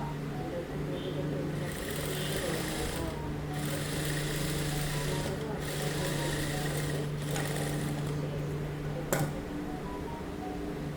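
Sewing machine stitching a band onto pant cloth to add length, running as a steady, continuous mechanical hum for most of the stretch, with a few short pauses and a brief click near the end.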